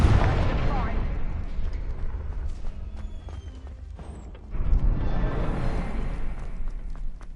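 A Confringo fire spell goes off in the Hogwarts Legacy video game, with a heavy booming blast at the start and a second rumbling burst midway, amid game ambience and voices.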